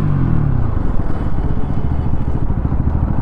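A Bajaj Pulsar NS200 motorcycle rides along in second gear, its engine holding a steady, rumbling drone that starts with a brief higher rev and then settles, loud and close throughout.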